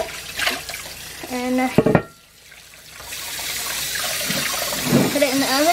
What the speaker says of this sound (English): So, we'll give it a good rinse,